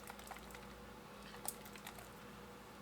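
A fountain pen nib writes on paper, a faint scratchy tapping of quick small strokes in an irregular rhythm, close and quiet, with no voices.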